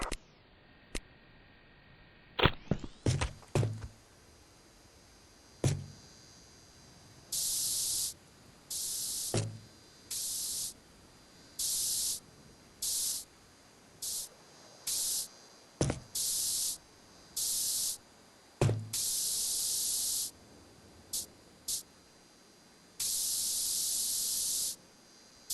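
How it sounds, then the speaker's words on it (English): Spray paint can tagging turf in Postal 4: a few rattling knocks, then a long series of bright, hissing bursts of varied length separated by short pauses. "use that can of spray paint you've got there to tag their turf"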